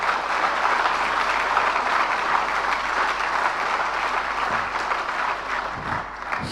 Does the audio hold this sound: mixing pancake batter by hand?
no